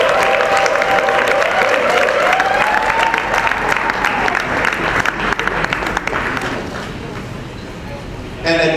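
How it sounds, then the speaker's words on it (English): Loud audience applause with crowd noise and some cheering at the opening ceremony of the Lagos International Theatre Festival, sustained for several seconds before fading, with a voice briefly audible over it. "Please give her a round of applause."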